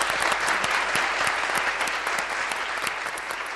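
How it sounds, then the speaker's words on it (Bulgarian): A television studio audience at a Bulgarian folk music broadcast claps in a full, continuous round, many hands beating steadily and evenly throughout without any voice over it. "Аплодисменти"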